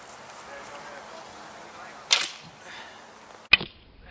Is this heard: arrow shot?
yes